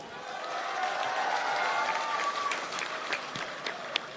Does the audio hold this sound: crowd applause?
yes